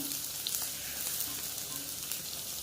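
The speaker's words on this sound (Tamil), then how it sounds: "வெங்காயம் போட்டுக்கலாம் வெங்காயம் நல்லா வதங்கட்டும்" Onions sautéing in a pan after ginger and green chillies, for kambu paniyaram, give a steady close sizzle with faint scraping ticks, no voices.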